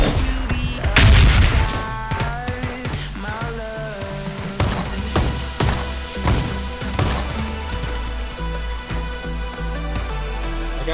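A grenade explodes in the video game PUBG, a loud booming blast near the start followed by scattered thuds and gunfire-like cracks over game music, with some faint voices.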